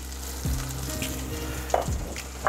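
Greens (green onions, cilantro and parsley) and seafood fry in a pan with kosher salt, giving a soft, steady sizzle with a few faint stirring clicks.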